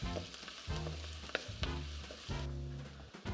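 Minced garlic paste sizzles in a hot pan for king prawn fried rice, a steady close frying hiss broken by a few stirring scrapes and short pops.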